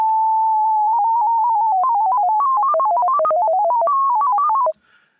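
A retro robot-style synth from Vember Surge plays a run of rapid bleeps that hop between random pitches after a steady opening tone, then cut off abruptly, with nothing else heard.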